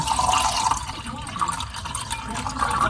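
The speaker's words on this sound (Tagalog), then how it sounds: "So, maglagay tayo ng 150 na tubig." Water poured into a home-cooked mixture, about 150 ml, a steady splashing pour lasting a few seconds at close range in a kitchen.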